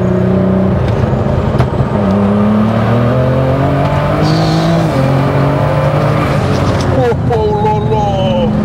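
Turbocharged BMW 325i E36 with a DKG gearbox and about 850 horsepower, engaging rolling anti-lag: a loud, continuous engine drone with rising and falling revs and crackling pops near the end, with people talking over it.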